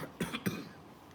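A person recovering in a hospital after laparoscopic surgery with a lung tube coughs three quick times, close and fairly loud, each burst short and harsh.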